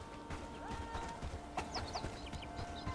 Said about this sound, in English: Oh, it's the rooster.